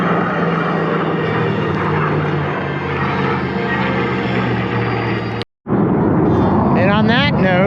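Loud roar of a P-51 Mustang and an F-22 making a final pass together at the Wings Over Solano air show, a sustained engine drone that cuts out briefly before returning, with someone talking over it.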